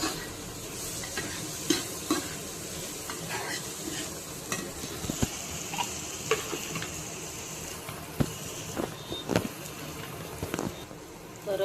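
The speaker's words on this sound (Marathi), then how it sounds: "मिठामुळे काय होतं ना, कांदा पटकन शिजून जातो." Onion sizzles and fries in a pan for masala pav while a utensil stirs it, with scraping clicks and knocks over a steady hiss, close up and without talk.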